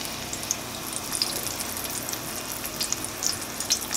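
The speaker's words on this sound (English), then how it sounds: "We're gonna lay this right inside" Battered vegan chicken fries in hot oil, a moderate bubbling sizzle with small crackling pops scattered throughout, steady and close.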